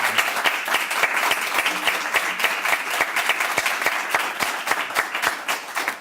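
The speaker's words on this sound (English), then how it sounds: "So let's have a real round of applause." An audience applauds with sustained, dense clapping that keeps an even intensity throughout, sharp individual claps standing out from the crowd.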